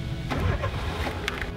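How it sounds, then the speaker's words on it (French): A car engine cranks and starts inside the vehicle, a steady low rumble with a few brief mechanical clicks over about a second and a half, fairly close and moderately loud, with no talk. "On allume la voiture."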